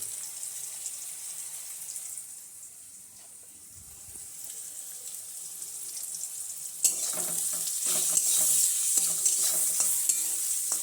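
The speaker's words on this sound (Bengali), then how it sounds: "পেঁয়াজগুলো প্রায় লাল লাল করে ভাজা হয়েছে" Onions with turmeric sizzle in hot oil while being stirred, a steady frying hiss with scraping strokes that grows louder and busier partway through, with no voices.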